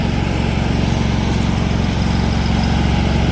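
A John Deere LA175 lawn tractor engine runs at a steady, loud, throbbing idle close by, constant throughout with no talking.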